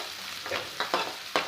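Sliced onions sauté in a pan for upma, a steady close sizzle broken by a few sharp stirring scrapes toward the end.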